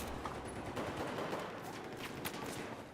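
Battlefield 4 combat fills the space with dense, continuous gunfire and rattling bursts, loud and unbroken, with sharper shots cutting through the din.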